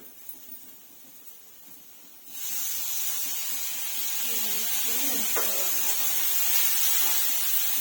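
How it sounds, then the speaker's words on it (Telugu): Tomatoes hit hot oil in a pan, and after a quiet start a loud, close sizzling hiss erupts and holds steady, with a voice speaking faintly alongside. "టమాటా టమోటా కూడా ఇట్లే ఆయిల్ వేసుకొని వేయించుకోవాలి"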